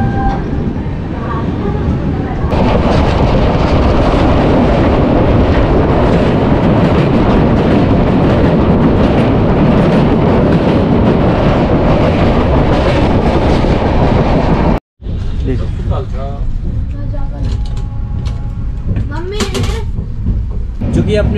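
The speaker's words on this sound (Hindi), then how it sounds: "इस ट्रेन का यहाँ से, यानी कि दरभंगा से डिपार्चर" A passenger train pulls out of Darbhanga station, its loud, steady rumble and rhythmic wheel clatter filling the scene close by, with a brief cut partway through and a voice talking over part of it.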